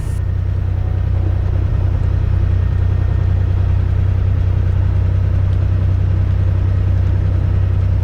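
A piston aircraft engine runs steadily at close range, a constant low rumble and drone holding unchanged throughout with no voices over it.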